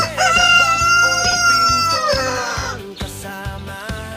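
A Buff Orpington chicken crows loudly and close, a long drawn-out call with rich harmonics, followed by softer clucking and rustling.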